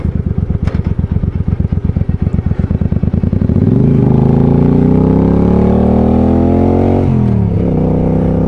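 A motorcycle rides along Powerhouse Road by a dam in Georgia: the engine chugs with a steady pulsing beat, then revs up loud and close into a rising whine as it accelerates, and dips briefly before climbing again.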